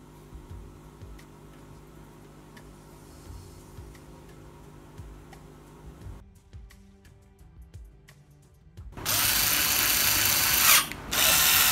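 A power screwdriver whirs in short runs while driving screws into the back cover of a Samsung TV under repair, ending in a louder, sustained burst.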